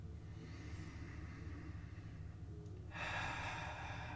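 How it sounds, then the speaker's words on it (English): Deep breathing during a yoga exercise: a low, steady rumbling background with a breathy exhale that rises suddenly near the end and holds. "and breathing deep"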